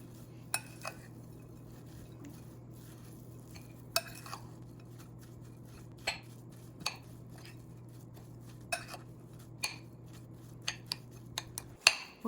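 Radish stuffing for mooli paratha being mixed in a bowl with salt, red chilli and whole cumin, giving soft scattered clinks and scrapes of a spoon or hand against the dish over a steady low hum.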